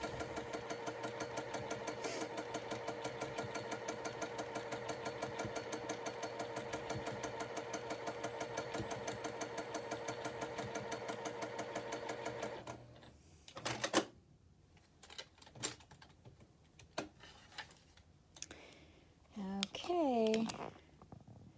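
A sewing machine stitches through a pinned quilt block of fabric for a feather leaf pattern with a steady, fast mechanical whir for about twelve seconds, then stops, leaving scattered clicks and knocks and a brief voice near the end.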